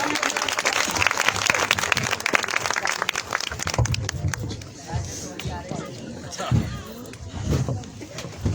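Congregation at a church sermon gathering applauding, a few seconds of fairly loud clapping that thins into crowd murmur, shuffling and scattered claps, with speech mixed in.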